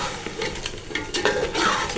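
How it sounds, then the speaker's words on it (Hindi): Chicken fries with biryani masala for chicken pulao, a constant sizzle under repeated spatula scrapes and stirring clinks, close and without speech. "अब हम इसको करते हैं अच्छी तरह से चिकन को फ्राई।"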